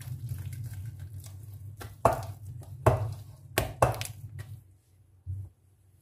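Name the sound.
whisking gram flour batter by hand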